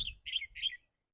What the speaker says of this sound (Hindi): चिड़िया चू चू कर रही है।